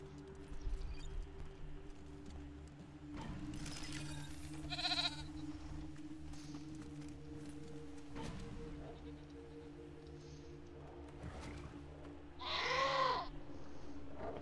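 A goat bleats in the post-apocalyptic video game Wasteland 3, a few short, faint, wavering cries spread across a quiet stretch of game ambience, the loudest one near the end.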